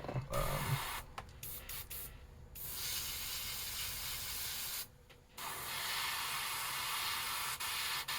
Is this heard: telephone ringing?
no